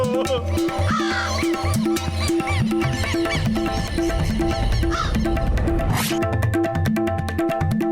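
Cartoon crow caws amid busy animated-show music and effects, several harsh calls spread across the scene over a steady loud soundtrack.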